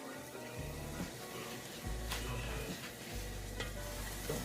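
Chickpeas fry in olive oil in a pan with salt and pepper, producing a steady sizzle broken by faint pops and stirring scrapes, heard close with no talking.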